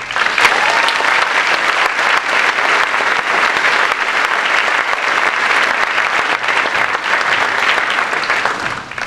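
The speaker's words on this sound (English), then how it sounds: "Give the foundation a round of applause." Loud, sustained applause from a large crowd, dense clapping filling the whole stretch without pause.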